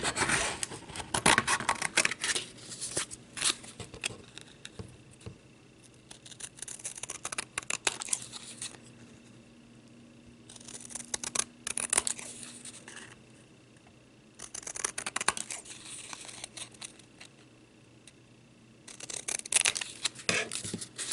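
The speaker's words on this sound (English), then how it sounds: "Cut this out. I'm going to rough cut it." Scissors rough-cutting out a tag ornament made with rhinestone scraps, heard up close as repeated rasping snips and paper rustling in several bursts separated by brief quiet pauses.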